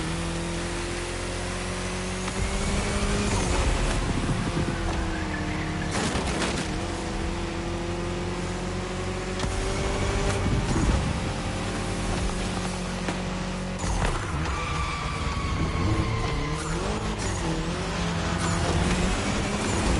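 Racing car engines in the video game The Crew Motorfest drone steadily with rising and falling pitch as several cars whoosh past, loud and continuous with no talking.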